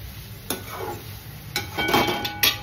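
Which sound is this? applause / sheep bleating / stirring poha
stirring poha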